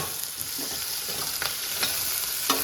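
Onion and green chillies sauté in a pan with a steady sizzle, broken by a few sharp stirring scrapes, close and alone without speech.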